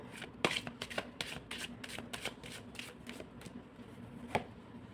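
Krishna Consciousness tarot cards are shuffled by hand in a quick run of papery riffling bursts, close and fairly soft, with no talking.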